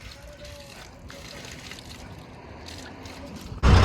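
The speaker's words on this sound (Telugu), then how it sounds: "ఇంక ఇక్కడ వస్తున్నాయి వాటరు." Water runs and trickles steadily at a roadside tap or stream in Assam as it is collected, a soft continuous flow with a louder splash at the end.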